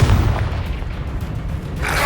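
Confringo fire spell blasts from Hogwarts Legacy combat: a heavy booming impact up front, then rolling low rumble and a brighter crackling burst near the end, loud with no voices.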